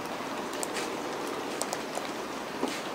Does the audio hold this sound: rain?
yes